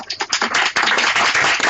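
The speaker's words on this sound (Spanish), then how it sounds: "Damos un aplauso en lugar." Brief clapping from a forum audience for Cintia, a short burst of many hands starting unevenly and quickly filling in.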